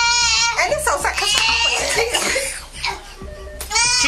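A 5-year-old child cries and wails loudly up close, with sobbing bursts and voices talking over and between the cries.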